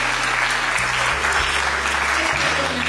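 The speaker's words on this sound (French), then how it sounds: "Applaudissez quand même." Audience applause at a school-year event with a school supplies handout, steady loud clapping from a crowd for three seconds over a low hum.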